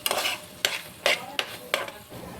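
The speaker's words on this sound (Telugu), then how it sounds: "తర్వాత బాగా కలిసేటట్టు కలపాలి." Chicken manchurian noodles, made with fried chicken and vinegar, being stirred in a pan: five or six distinct scraping stir strokes over a soft sizzle, close and fairly quiet, with no talking.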